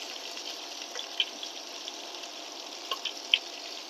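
Garlic paste added to onion paste frying in a pan for a chicken curry with broad bean seeds, heard as a steady close hiss with a few faint clicks and taps from the spoon.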